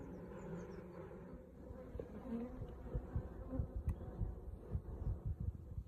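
Honeybees buzz at a knocked-over hive, a close, dense drone with individual bees whizzing past in bursts, quiet and steady throughout.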